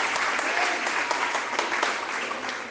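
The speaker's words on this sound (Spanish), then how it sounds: "Denle un aplauso al Señor" Sustained applause from a church congregation praising the Lord after a Bible reading from Hebrews, dense and steady throughout with faint voices mixed in.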